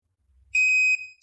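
An iPets PET610 dog training collar gives a single short, clear electronic beep as it switches on, preceded by a faint low thump of handling in an otherwise silent setting.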